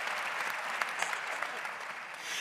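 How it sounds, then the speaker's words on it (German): Applause from a conference audience at an innovation congress, a dense steady wash of many hands clapping at moderate level throughout, with no speech over it. "Herzlichen Applaus"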